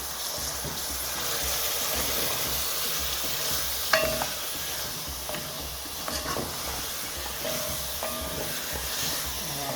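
Beef stir-fry with carrot, pepper and salt hisses steadily in a pan while being stirred, with occasional sharp scrapes and clinks of the utensil against the pan over the continuous sizzle.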